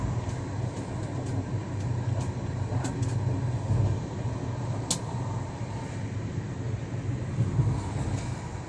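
Steady, droning rumble from inside a moving train on a long journey, with rhythmic rattles and occasional sharp clicks over several seconds, and no talk.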